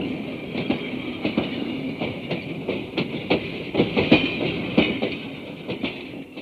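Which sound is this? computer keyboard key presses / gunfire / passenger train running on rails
passenger train running on rails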